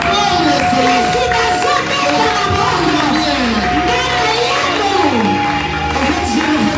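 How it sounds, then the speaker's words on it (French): A large crowd at a church gathering cheers and acclaims loudly and continuously, a dense wash of many shouting and rising voices with scattered clapping, close and sustained throughout. "Ce sont des acclamations des gens qui sont encore au deuxième jour de la séparation."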